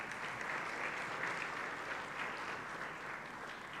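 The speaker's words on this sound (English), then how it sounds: "A big round of applause again" Sustained audience applause at a national higher education strategy launch, a dense, even clapping from a large crowd that fills the whole moment.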